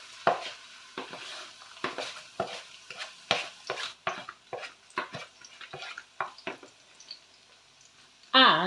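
Pulverized shallots in hot oil in a pan, stirred with a utensil: repeated sharp scraping strokes over a faint sizzle, close and fairly loud, ending in a sudden louder burst.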